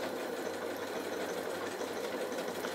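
A Janome Atelier 9 sewing machine runs continuously while stitching a border, giving a steady, even mechanical whirr at moderate volume with no pauses.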